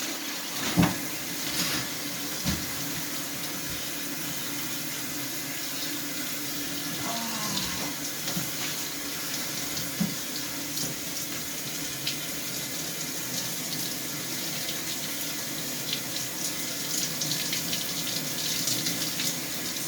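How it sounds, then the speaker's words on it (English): A running shower hisses in a steady, even spray for the whole stretch, close and fairly loud, with a few faint knocks and bumps from inside the bathroom. "getting in the shower before I run out of hot water"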